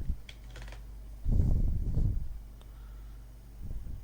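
Soft clicks on a computer keyboard come in a couple of short bursts, quiet and close, separated by brief pauses.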